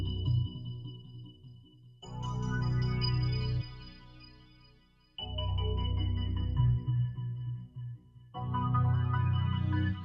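A layered synth patch built from the Citrus Moon Ray 2 preset in FL Studio, with sustained pad-like chords entering in three separate swells and some decaying between them.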